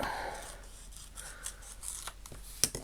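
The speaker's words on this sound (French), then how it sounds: "On va juste découper un petit peu de chaque côté." Scissors snip paper for a collage in a few quiet, close cuts over a soft rustle of paper, with one sharper snip near the end, no talk.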